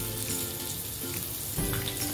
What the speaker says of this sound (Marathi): मी ना ह्या तेलात लसूण टाकते.